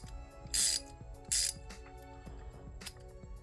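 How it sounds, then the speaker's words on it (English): A 90-tooth ratchet from a DuraTech 42-piece bit socket set clicks in quick, fine bursts, close and quiet, with a few sharper louder ratcheting spurts alone without talk. "this is the 90 tooth ratchet"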